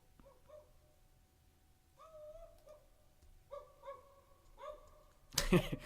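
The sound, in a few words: human voice imitating dog barking, recorded on C414 microphones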